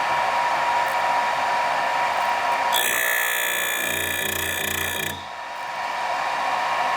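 Vevor saw blade sharpener running and grinding a blade's teeth: a steady motor hum, then a loud whining grind for a couple of seconds before it drops back.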